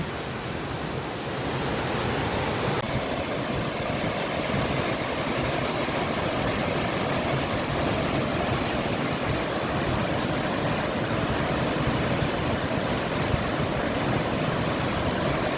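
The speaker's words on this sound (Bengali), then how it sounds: "ভিউটা দেখো, অসাধারণ, জলটা পড়ছে" A waterfall near Ranchi roars steadily throughout, a dense broadband rush of falling water that stays loud and unbroken with no voices over it.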